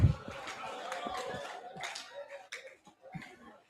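During an exercise session at a conference, a group claps faintly and a little unevenly, with scattered hand claps and footfalls under an energetic instructor's voice and crowd chatter.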